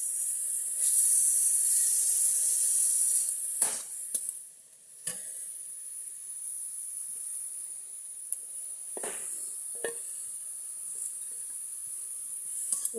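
Leafy greens frying in a pan as their released water cooks off, a bright continuous hiss and sizzle with a few sharp stirring scrapes and knocks, near and steady.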